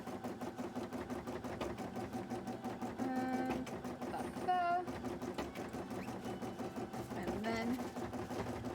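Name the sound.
sewing machine sewing cosplay pieces together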